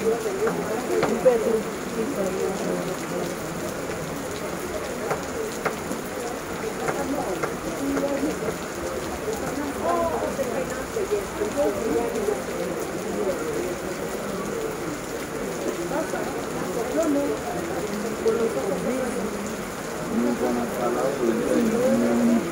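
Steady rain patters on surfaces in a continuous even hiss, with muffled voices murmuring faintly in the background throughout.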